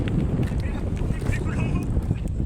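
Wind at sea gusts against the microphone in a steady rushing roar outdoors, with a low rumble underneath and faint voices in the background.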